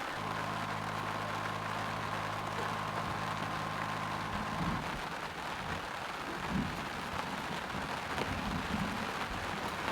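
Steady rain patters on an alpine grassy campsite at about 1,600 metres in the Victorian High Country, a dense constant hiss with a low engine hum fading out partway through.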